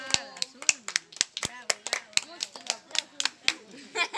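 Sharp, uneven claps burst out across the whole stretch at a family gift opening, fairly close, with excited voices talking and cheering over them.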